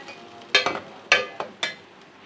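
Tomato paste cooks in a pan for a kofta gravy, with a few sharp spoon scrapes and stirring clacks followed by soft sizzling, close and fairly quiet, with no talking.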